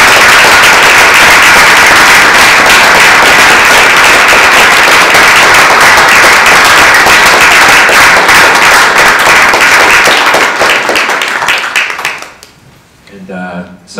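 A large audience breaks into sustained, dense applause at a university panel event, loud and continuous for about twelve seconds before fading out, with a voice starting to speak at the end.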